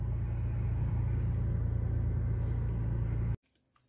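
Lexus RX 450 engine idling just after start, a steady low rumbling hum close by that cuts off abruptly near the end, leaving near silence.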